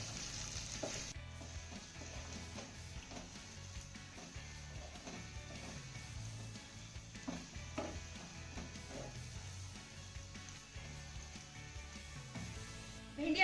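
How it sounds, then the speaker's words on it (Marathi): Okra being stirred in a pan while it fries, with a steady close sizzle and repeated spoon scrapes and knocks against the pan throughout, and no talking. "त्यानंतर ही भेंडी आपल्याला एकदा चांगली हलवून घ्यायची आहे"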